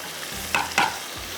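Meat frying in a pan with tamarind and dry mango powder (amchur) is stirred in two brief scraping bursts, a steady low sizzle running underneath, close and fairly quiet.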